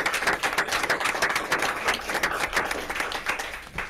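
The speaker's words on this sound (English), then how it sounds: "join me in a round of applause to welcome Mr." A room full of people at a board of regents meeting claps steadily for a newly welcomed guest, a dense patter of hands holding even for about four seconds before easing slightly at the end.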